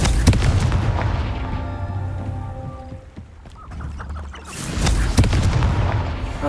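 Confringo fire spells burst in Hogwarts Legacy, loud booming blasts and crackling impacts in a dense battle, with a brief lull in the middle before another heavy round of explosions.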